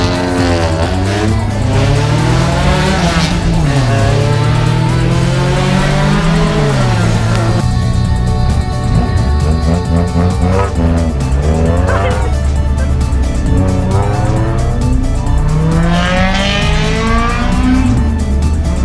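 Loud street-racing car engines, including a Honda Civic EF9, rev and roar past one after another, pitches rising and falling as they accelerate, with tires squealing at times.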